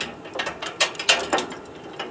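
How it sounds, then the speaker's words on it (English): A ratchet binder clicks in a series of sharp ratcheting bursts as a chain is tightened on a trailer holding a skid steer, with several distinct close-up clicks and no talk. "go ahead and get the back chain tightened"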